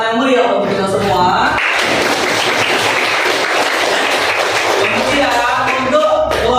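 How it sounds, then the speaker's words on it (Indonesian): A classroom group claps for the class, bursting into dense, lively applause after a few seconds of voices, the crackle of many hands filling the room close by before talk returns at the end. "mari kita berikan tepuk tangan yang meriah untuk kita semua"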